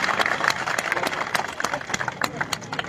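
An audience at an Aam Aadmi Party road inauguration ceremony in Budh Nagar claps for party workers, with irregular sharp claps scattered over a low crowd murmur, moderately loud and close.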